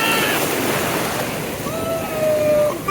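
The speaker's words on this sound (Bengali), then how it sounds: "কত সুন্দর ভাবে ঢেউ আসতেছে, ঢেউয়ের পরে ঢেউ আসতেছে" Ocean surf breaks steadily at Cox's Bazar beach in a loud, continuous wash, with wind rushing over the microphone and a faint tonal whine in the background.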